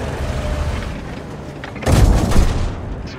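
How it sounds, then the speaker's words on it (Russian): A tank cannon fires once in a World of Tanks-style battle game, a heavy booming blast with a rumbling tail following a stretch of low engine and mechanical noise. "Орудие готово к стрельбе."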